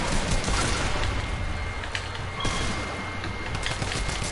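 Dense bursts of Fortnite gunfire crackle almost without pause, a close, busy exchange of shots with a few sharper cracks mixed in.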